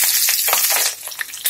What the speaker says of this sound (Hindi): ये देखिए तेल गर्म हो चुका है, सबसे पहले तड़के के लिए मेथी डालेंगे